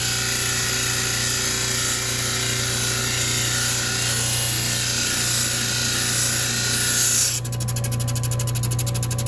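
A blade edge being honed on a sharpening stone at an 11-degree angle gives steady, close abrasive rubbing strokes that run continuously without a pause.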